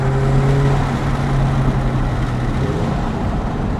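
A Lotus Emira Turbo with a dual-clutch transmission downshifts on a canyon drive, the engine note holding steady, then dipping and rising again as the lower gear engages, loud and close throughout.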